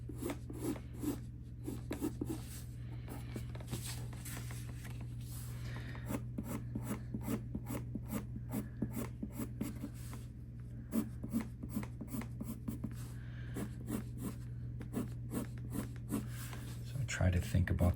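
Pencil sketching a portrait on paper, soft rapid scratchy strokes repeating in quick bursts throughout, close and quiet over a low steady hum.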